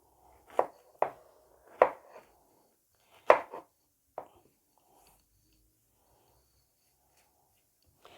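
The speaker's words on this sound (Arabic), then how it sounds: "واول حاجه هنقطعها الفراوله." A knife cuts strawberries on a board in a handful of crisp, separate chops with short pauses between them, then near silence.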